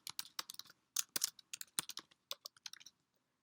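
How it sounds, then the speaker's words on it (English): Fingers tap out an email address on a computer keyboard in a quick, uneven run of close, crisp key clicks that stops after about three seconds. "type in your email address"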